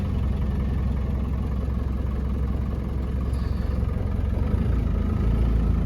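A 1991 Land Rover Defender 90 with the 200tdi diesel idles in a steady, even low rumble, close and continuous for about six seconds with no talk.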